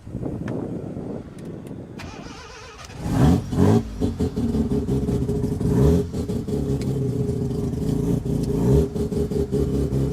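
A rotary-engined Mazda RX3 at a Summernats rotary meet pulls away, its engine rising from a low idle into a loud, close rev and holding a steady drone as the car drives off.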